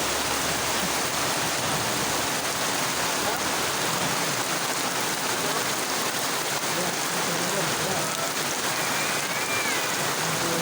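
Heavy rain pours steadily onto surfaces near a thatched hut in the Philippines, a loud, unbroken hiss of drops with no let-up throughout.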